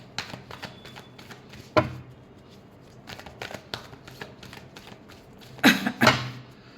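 Tarot cards are shuffled close by in uneven bursts of soft riffling and tapping. Two louder flurries stand out near the end, and there is no speech.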